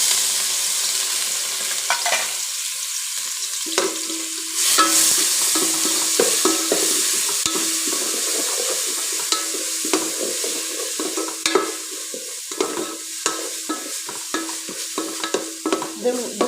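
Crushed ginger, garlic, shallots and green chilli fry in a pan, giving a steady bright sizzle with repeated scraping and stirring strokes throughout, close and loud, with no talking.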